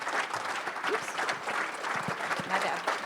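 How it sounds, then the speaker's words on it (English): An audience applauds after a presentation on a lullaby project, with dense, sustained clapping at moderate level and a few faint voices or cheers mixed in. "Let's give another round of applause to Rebecca Redmann and the Lullaby Project."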